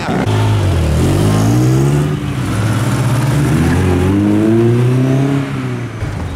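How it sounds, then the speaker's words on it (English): A Porsche GT2 RS-type sports car engine revs hard and loud on an airfield, rising and falling in pitch across several throttle blips with backfires, close to the listener. "This thing just wants to backfire constantly."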